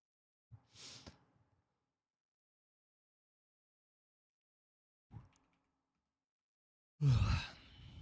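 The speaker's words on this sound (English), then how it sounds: "Sorry, guys, for yawning." A person yawning, with a long drawn breath near the start, a brief faint exhale later and a deeper, louder yawning groan at the end, close and isolated in quiet.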